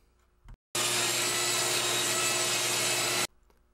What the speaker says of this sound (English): I run it back through the table saw and get both edges ready for gluing